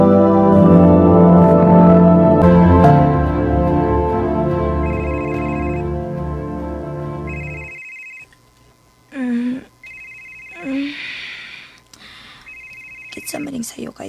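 A telephone rings with an incoming call in a radio drama: short, bright repeated electronic ring bursts sound at intervals after music fades out, with a voice speaking between the rings.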